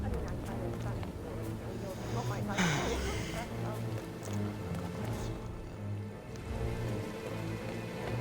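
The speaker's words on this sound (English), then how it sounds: "It's midnight. It's just raining. It sounds so nice." Steady rain patters continuously at night in Hitman 3 beneath a low, droning musical tone, constant and moderately quiet throughout.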